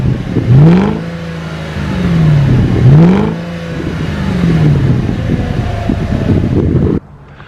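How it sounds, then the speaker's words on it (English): A Volkswagen Touareg V8 engine revs repeatedly, its deep exhaust note rising and falling in loud surges before cutting off abruptly. "So here's a little exhaust note or a clip so you can see what I'm talking about."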